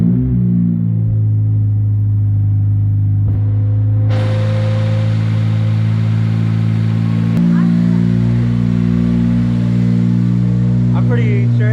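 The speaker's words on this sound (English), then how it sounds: "So yeah, I'm gonna start the car." Acura RSX engine fitted with new motor mounts fires up and settles into a loud, steady idle hum with a distinct pitch shift partway through, with a voice talking over it.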